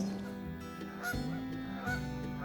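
Geese honk close by in a few loud, nasal calls, one after another over faint background noise.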